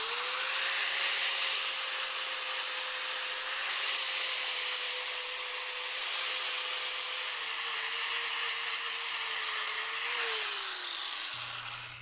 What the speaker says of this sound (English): I'm going to start on the left hand side by removing the surrounding paint and the surface rust.